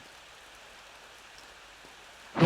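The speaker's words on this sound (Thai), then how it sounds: "เหมือนว่าข้างนอกจะฝนตก" Rain falling outside in the horror video game Ao Oni, a faint, steady patter that runs throughout before a sudden louder burst of noise at the very end.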